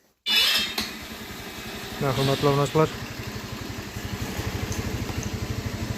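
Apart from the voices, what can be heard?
petrol scooter engine running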